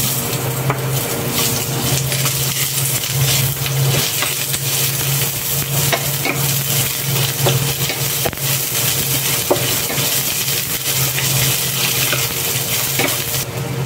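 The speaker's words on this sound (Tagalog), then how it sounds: "Saka tayo mag-gisa ng sibuyas." Onions sautéing in hot oil in a frying pan, a steady loud sizzle with occasional clinks and scrapes of stirring, close and continuous without any talking.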